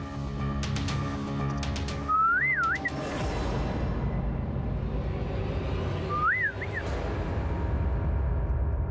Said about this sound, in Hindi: ये सीटी कौन बजा रहा है?